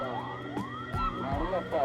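An ambulance siren wails with rising and falling tones, loud and close, over a busy background with some talking and a few low thumps, at a rekla horse-cart race in Erode.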